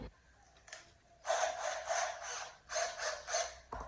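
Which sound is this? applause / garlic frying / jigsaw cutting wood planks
jigsaw cutting wood planks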